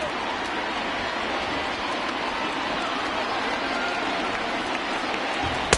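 Constant dense roar of a large stadium crowd cheering in the MLB The Show 20 baseball video game, steady and loud for the whole stretch.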